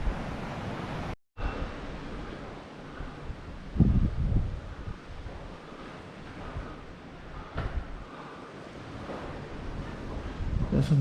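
Ocean waves wash against the Stevns Klint cliff coast below an old church, with steady wind buffeting the microphone, a short dropout near the start and a few louder surges of surf.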